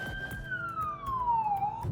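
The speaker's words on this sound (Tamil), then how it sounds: "அடிக்கடி போலீஸ், ஆம்புலன்ஸ், ஃபயர் ட்ரக், கூடுதலாக போலீஸ் தான் வந்து போவாங்க." A police car siren wails past on a Toronto street at night, one clear tone sliding slowly downward as it goes by over a low background of city traffic.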